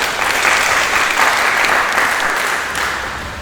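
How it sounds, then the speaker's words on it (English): Dense, sustained applause from a large audience honoring the governor and state at a Federal Road Safety Corps visit to the Ika monarchs, steady and loud throughout before easing slightly at the end. "will you give the governor and the state a round of applause?"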